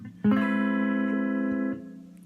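A single electric guitar chord, barred high on the neck for a guitar lesson, rings out sharply after a strum, sustains evenly with a bright, slightly effected tone, then is damped off.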